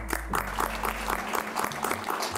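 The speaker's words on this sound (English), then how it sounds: "Round of applause." A small live audience claps in a podcast studio, a thin, fairly close patter of scattered hand claps with a low hum underneath.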